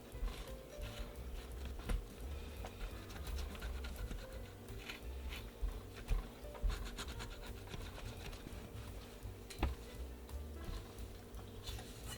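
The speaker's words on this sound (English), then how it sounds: "I'm going to give the lower shield a good rub down." A PlayStation 1 lower metal shield is rubbed down with a cloth and cleaner, giving close, irregular scratchy scrubbing strokes and soft rubs with occasional knocks, no voices.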